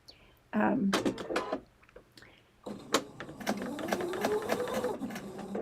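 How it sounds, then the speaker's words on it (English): Sewing machine stitching a quarter-inch seam in a home sewing room; bursts of close mechanical whirring and rapid needle clatter start, pause for about a second, then resume with a rising motor whine, under occasional faint talk. "I'm sewing this on with a 1/4 inch seam"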